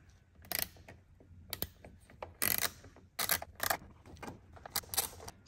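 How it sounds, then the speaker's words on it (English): A small ratchet fitted with a T15 bit works on the rear spoiler screws of a Porsche Cayman 987, giving short bursts of quick, close metallic clicking separated by brief pauses. "we're going to get our little T15 paired up with a small ratchet."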